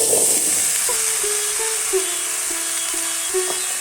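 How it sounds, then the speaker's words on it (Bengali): Okra sizzles in hot oil with fried potatoes, a constant bright hiss, while a spatula scrapes and taps the pan in a loose repeating rhythm. "এই সব কিছু একটু ভালো করে ভেজে নেব। আলুগুলো ভাজা হয়ে গেছে, দিয়ে দিচ্ছি এবার ভেন্ডিগুলো।"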